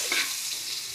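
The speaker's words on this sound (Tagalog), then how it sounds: "Lagyan natin ng bawang." Garlic sautéing in margarine in a pan, a steady close sizzle throughout with a brief stirring scrape near the start, no voices.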